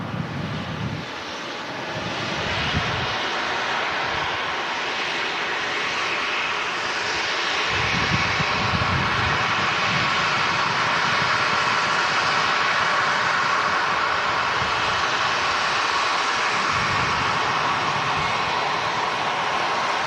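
A Qatar Airways airliner begins to roll at Manchester Airport, a broad continuous jet engine roar that swells after the first few seconds and holds steady and loud, with brief dips in the low rumble.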